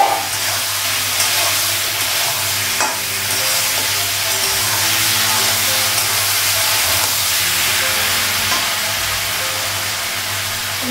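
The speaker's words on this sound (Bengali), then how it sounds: "মশলাটা ভালো করে কষানো হয়ে গেছে" Spice paste sautéing with papaya in a pan in a home kitchen, a steady loud hiss and sizzle with scattered faint stirring scrapes, no talking.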